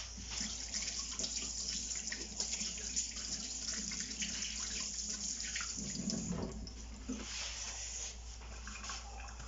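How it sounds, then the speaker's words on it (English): Hands are washed under a running tap, with steady water flow and splashing that shifts in texture as the hands move. The sound is continuous and moderately close throughout. "Give me 2 seconds to wash these hands."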